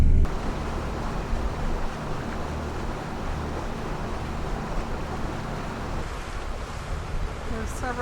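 A trawler-style ocean-going power boat cruises over a flat, windless sea in Ernst Sound, Alaska. A continuous engine drone blends with the steady wash of water along the hull, plus light wind buffeting on the microphone.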